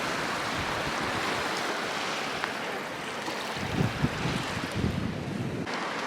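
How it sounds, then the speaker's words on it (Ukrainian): Fast-flowing river water rushes in a continuous broadband roar, with gusty wind buffeting the microphone and a few heavier surges near the end, with no voices. "Дуже швидка вода в такій воді."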